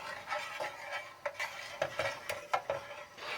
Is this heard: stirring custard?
yes